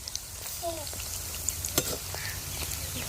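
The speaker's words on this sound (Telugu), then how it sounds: "రెండు పక్కలు అయితే బాగా ఫ్రై చేసేసుకొని పక్కకు తీసేసుకోవాలి" Food fries steadily in a pan with onions, curry leaves and green chillies nearby, giving a dense, even sizzle up close with a few faint clicks on top.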